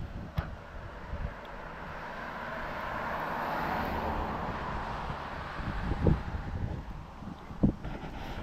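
Wind blowing outdoors during a walk on a breezy day, a steady broad rush of microphone buffeting with occasional low thumps and gusts, no talking.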